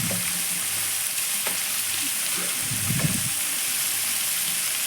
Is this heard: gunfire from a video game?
no